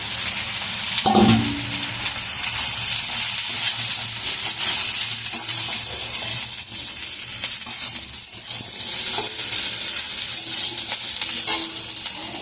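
Fried soybean chunks and potatoes with a pinch of garam masala stirred in a hot pan, giving a loud, continuous sizzle with scraping and rustling of the spoon through the pieces and one clunk early on.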